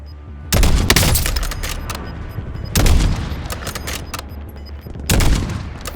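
Heavy gunfire in the video game Warzone arrives in three loud, dense bursts spaced a couple of seconds apart. Each volley rattles close and hard, then trails into rumbling echo, with no voices.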